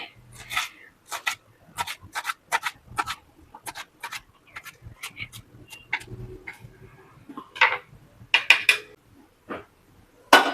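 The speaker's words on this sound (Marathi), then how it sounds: "आता कोथिंबीर चिरून घेते" Coriander being chopped with a knife on a board, a series of quick, irregular close taps and scraping cuts that come in short bursts.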